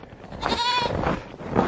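Hungry male goats on a farm bleat loudly in the morning before feeding, with a few overlapping cries close by and a long wavering call in the middle.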